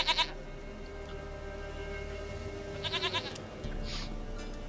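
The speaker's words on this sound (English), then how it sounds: "Goat of mine, dearest," A goat in The Witcher 3: Wild Hunt lets out short, quavering bleats, one burst at the start and another near the three-second mark, over a steady game ambience with no speech.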